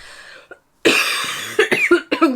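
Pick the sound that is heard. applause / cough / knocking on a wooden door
cough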